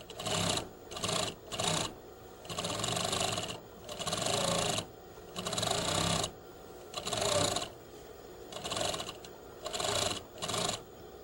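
An old sewing machine runs in repeated short bursts while it crack-stitches a waistband on a garment, each burst a whirring, rasping stitch run separated by brief pauses, fairly quiet and close.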